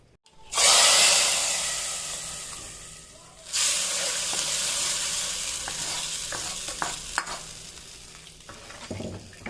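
Hot tempering with a pinch of asafoetida is poured into a ridge gourd sambar made without toor dal or sambar powder. It hits with a loud, sudden sizzle that fades, then bursts again with crackling hiss, and a faint voice is heard.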